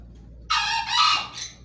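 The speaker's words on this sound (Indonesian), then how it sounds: "ayam hutan kita itu berkokok" A junglefowl rooster in an aviary crows once, a loud, close, strained call that rises, holds and trails off in about a second, over a quiet low background hum.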